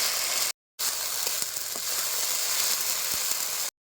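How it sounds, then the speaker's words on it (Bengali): Dense sizzling from a hot pan as onion and spices sauté, with a few soft scraping clicks of stirring and a short gap near the start. "পেঁয়াজ আর মশলা ভালো মতো একটু কষাই নেব"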